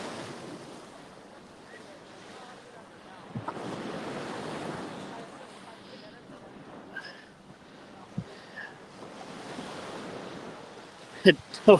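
Gulf surf at a Panama City, Florida beach rolls in heavily, each wave building into a broad wash under steady wind buffeting the microphone, with a few sharp knocks near the end.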